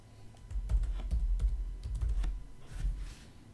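Keys clatter on a computer keyboard as a short word is typed, a quick burst of close, uneven clicks with a brief pause before a final few taps.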